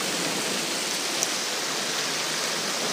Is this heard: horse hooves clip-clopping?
no